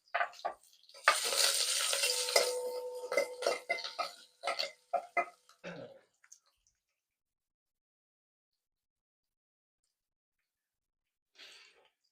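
Garlic, cashews and curry leaves fry in hot oil for kichadi, giving a loud crackling sizzle with rapid pops that thins into a few scattered crackles and then silence, plus a brief faint sound near the end.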